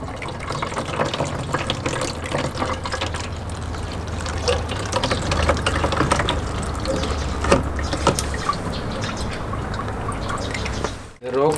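Coolant draining from a Suzuki V-Strom motorcycle radiator: steady liquid stream splashing and trickling into a container, continuous and close, with a low hum underneath and brief clatter near the end.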